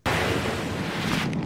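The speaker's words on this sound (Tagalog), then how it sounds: "binabayo ng malakas na hangin at ulan ang Nueva Ecija" Strong typhoon wind and rain batter Nueva Ecija, a dense, constant roar of gusting wind and rainfall buffeting the microphone with no break, loud and close.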